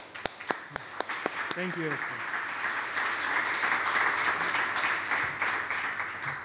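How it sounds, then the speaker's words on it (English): A conference audience applauds at a design and technology gathering, the clapping building into a steady, dense patter that holds throughout, with a few sharp nearby claps at the start and someone speaking briefly near the beginning. "I would like you to join me for a round of applause for his leadership and organization of"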